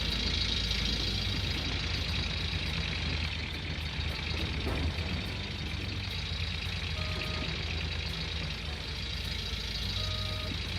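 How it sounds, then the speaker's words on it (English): A tractor engine in the video game Gold Rush The Game drones steadily at a constant pitch, a continuous mid-volume rumble with no talk over it. "I'm going to get the tractor stuck in it."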